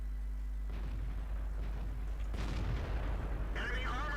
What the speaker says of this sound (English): That must have been an ammo rack on that one.